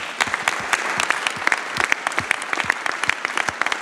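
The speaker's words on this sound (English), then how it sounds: "So, all right, great applause for Adam" A crowd at the re:publica 2014 national final of the Telekom Innovation Contest claps steadily for a presenter, with crisp individual hand claps in a lively, moderately dense round of applause.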